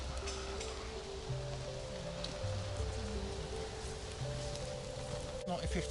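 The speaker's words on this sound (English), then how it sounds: "I feel a little bit of rain coming through." Steady rain patters on trees in autumn woodland, a soft continuous hiss with faint low tones and tonal lines running under it, no distinct drops standing out.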